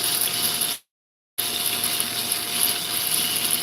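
A Nova lapidary grinder, its point wheel shaping fire agate without water, whirs with a steady, bright grinding hiss near at hand, cutting out briefly for about half a second and then resuming.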